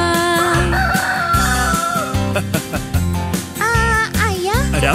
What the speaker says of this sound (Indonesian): Semua ayam bunyi petok petok, petok petok, petok petok